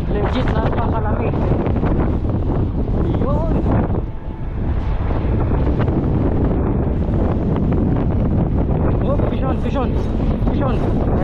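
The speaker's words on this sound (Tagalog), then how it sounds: "Imagine, ang lakas ng hangin, tapos kaulan pa mga kaibigan, ang lamig-lamig." Strong storm wind buffets the microphone steadily with rain and cold weather during a fishing outing, a loud continuous roar and rumble throughout, with someone talking over it.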